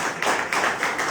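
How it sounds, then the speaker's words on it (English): A conference audience at a Goa startup and corporate networking event claps in a brief, steady patter, moderately close and fairly soft, with no talking over it. "you give a big round of applause"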